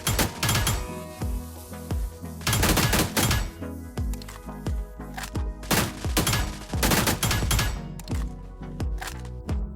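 Gunfire from an auto shoulder weapon in PUBG: New State, firing in rapid bursts of loud, sharp automatic shots separated by brief pauses, close and dominant throughout.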